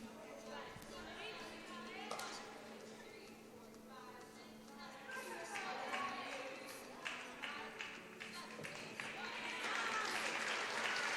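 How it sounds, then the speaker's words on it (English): Trine team supporters cheer and clap for the Falcons at a college sporting event, a sustained crowd of applause and shouts mixed with chatter, swelling louder toward the end. "as you could hear Trine cheering on the Falcons there in that event"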